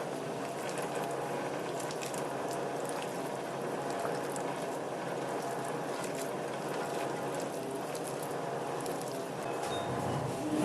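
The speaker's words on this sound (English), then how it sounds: "and mix it thoroughly again." Chicken biryani ingredients for brown rice Hyderabadi dum biryani mixed thoroughly in a pot, a steady close wet squelching and scraping that carries on throughout with no talk.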